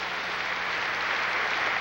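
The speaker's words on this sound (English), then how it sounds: "And the crowd likes him." A Moscow crowd applauds Soviet weightlifter Yuri Zakharevich after a 507-pound lift at the 1986 Goodwill Games, a dense, steady roar of clapping that fills the arena.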